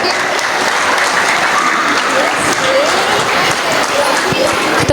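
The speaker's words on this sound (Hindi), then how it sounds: "एक बार जोरदार तालियां इतनी प्यारी सी परफॉर्मेंस के लिए" A crowd gives loud, sustained applause after a cultural program performance at a Jagannath Ratha Yatra event, with a steady roar of clapping and voices mixed in throughout.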